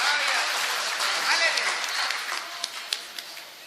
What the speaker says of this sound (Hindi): तो एक बार ताली वाली बजा दीजिए आप लोग।